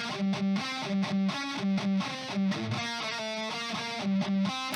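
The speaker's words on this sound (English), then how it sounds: "this was made by having the distortion channel on my amp with my Marshall boost, my Marshall Governor distortion in front of it" Electric guitar played through an amp's distortion channel with a Marshall Governor distortion pedal and Marshall boost in front, a rhythmic riff of repeated chugging chords with a fuzzy, saturated tone, moderately loud and without talk.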